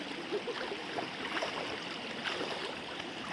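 A mountain river flows in a steady, fairly faint wash of water with a soft gurgle, heard alone with no voices throughout.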